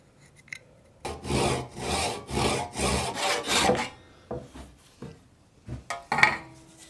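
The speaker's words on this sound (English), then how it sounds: "So I want to make sure I use a crosscut to cut off my end here" A crosscut hand saw cuts through the wooden end of a mattock handle in about six brisk back-and-forth strokes, close and rasping, followed by a pause and a few lighter scrapes.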